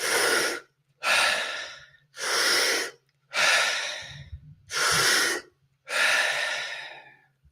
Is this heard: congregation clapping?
no